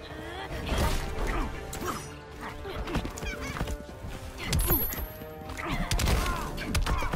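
A fighting-game brawl in Injustice 2, with a series of sharp whacks, thuds and crashing impacts from a Falcon kick landing amid other hits. A few rapid strikes pile up under shouting voices.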